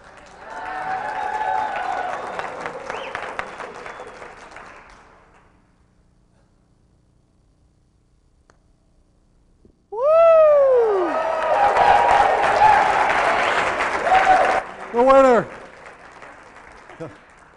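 An audience applauding at a golf putting exercise, a few seconds of clapping, then a short quiet gap, then a louder burst of clapping and cheering with a voice calling out over it.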